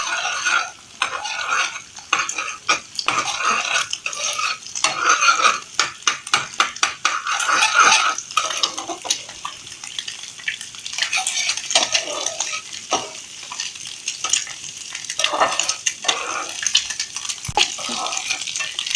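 Egg frying in a hot pan for chicken fried rice while being stirred and broken into small pieces: steady sizzle under rapid, repeated spatula scraping and clinking against the pan, close and fairly loud, no talking.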